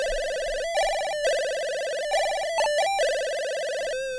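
A SID chip synthesizer plays a three-note chord that imitates a telephone ring: a bright, buzzy electronic trill in repeated bursts with short gaps, ending on a sustained tone.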